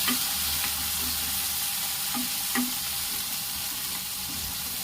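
Onions, tomatoes and green chillies fry in oil with a dense, steady sizzle, broken by a few soft spatula taps and stirs, heard up close with no one speaking.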